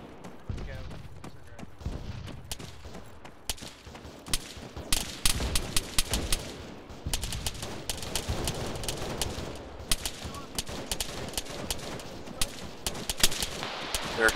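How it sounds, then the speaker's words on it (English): Gunfire from the military shooter game Arma 3 crackles in rapid volleys and scattered single shots, some near and sharp, others more distant, with voices talking over the firefight at times. "Sorry, we're shooting dudes."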